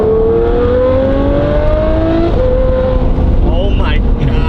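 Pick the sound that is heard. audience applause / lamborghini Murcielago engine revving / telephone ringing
lamborghini Murcielago engine revving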